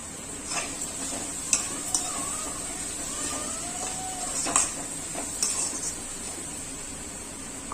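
Chili powder stirred into hot oil in a frying pan for a Chhattisgarhi vegetable dish, a soft steady sizzle with scattered light scrapes and taps of a spoon against the pan, close and without talk.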